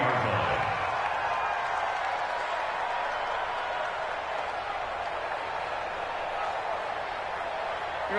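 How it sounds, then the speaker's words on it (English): Stadium crowd noise in Madden 20 during a Jets–Dolphins wildcard game, a steady broad roar with scattered applause throughout, continuous and moderately loud. "The crowd may be losing just a little bit of the edge after back-to-back punts."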